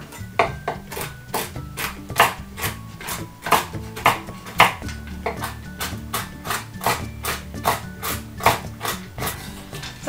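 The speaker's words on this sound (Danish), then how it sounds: "Så er mandlerne hakket." Almonds being chopped by hand on a cutting board, a rapid, even series of close, crisp knife knocks lasting throughout, no voices over it.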